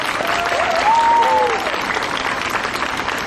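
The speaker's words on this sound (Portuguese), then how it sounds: "Uma salva de palmas para o grupo da Crisma da nossa paróquia" Steady applause from a parish congregation greets the confirmation group at a Bible walk event, a dense continuous wash of many hands with a brief voice or whistle-like tone rising above it.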